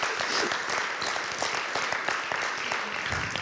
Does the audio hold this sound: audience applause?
yes